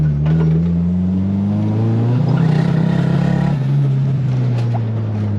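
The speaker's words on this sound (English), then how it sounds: "it just sounds like it's blowing out the spark" A Nissan 180SX engine with aged spark plugs runs roughly and misfires, a steady, loud, close-up low drone with a wavering pitch and no pauses.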